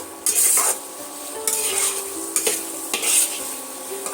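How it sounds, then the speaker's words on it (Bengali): A metal spatula stirs potatoes frying in a pan, with several distinct scraping strokes over a soft, continuous sizzle, close and clear with no voices. "আবারও আমি খুন্তি দিয়ে এইভাবে একবার কষিয়ে নেবো"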